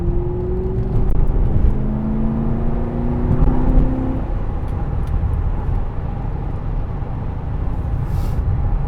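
Steady road traffic rumble and tyre noise heard from inside a moving car, with a low engine drone and some passing vehicle whirs, fairly loud and continuous with no talking.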